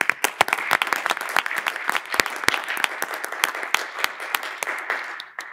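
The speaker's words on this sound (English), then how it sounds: "Can we get a round of applause?" A small group of people at a school board meeting applauds students, with a burst of close, distinct hand claps running steadily for several seconds and then tapering off.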